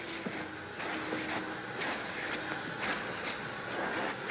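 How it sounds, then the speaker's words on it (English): A vacuum cleaner runs in a hotel, giving a steady, muffled mechanical drone that holds at a constant level throughout, with no talk over it. "I can't hear you over the vacuum."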